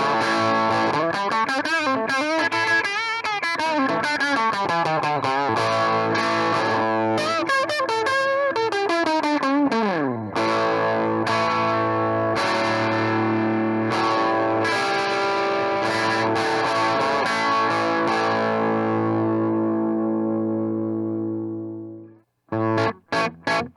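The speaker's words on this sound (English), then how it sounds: "Turning the amp up to 10, it really starts to get dirty, and we can hear the signature tone of this amp." A TubeDepot 5F1 kit tube amp turned up to 10, driven into distortion by an electric guitar. Gritty chords and bends play with some modulated wobble, then a long sustained chord rings out and cuts off, loud and close.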